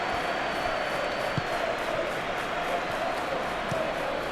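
A stadium crowd in an eFootball match cheers as a dense, steady roar throughout, with a few faint thumps in the mix.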